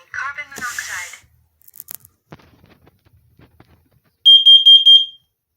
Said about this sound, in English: it says fire and then carbon monoxide